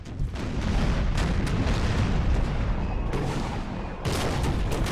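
In a large Napoleon: Total War 4v4 battle, archers fire with a glitched audio that plays cannon fire instead, giving dense rolling booms and cracks, with a few sharper bursts, over a continuous battlefield rumble.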